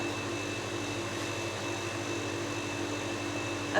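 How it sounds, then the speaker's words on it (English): A freeze dryer loaded with shredded courgette runs with a steady, moderately loud mechanical hum and constant whirring tone, unchanging throughout with no voices. "Loading freeze dryer with shredded courgette."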